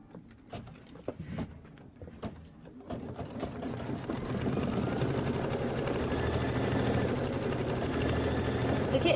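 A sewing machine stitches a mini quilt, first with a few scattered taps and clicks, then settles into a steady, close, continuous mechanical whirr, with some speech in the background.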